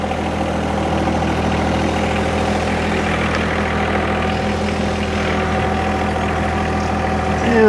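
A John Deere 1025R tractor engine runs at a constant, steady drone while tilling a garden, close and loud with no speech.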